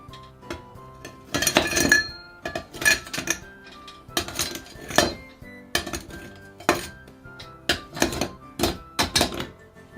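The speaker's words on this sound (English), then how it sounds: "get your highball glass and fill it with ice" Ice cubes are dropped into a highball glass in a series of close, bright clinks and clatters that arrive in irregular bursts, with no one talking.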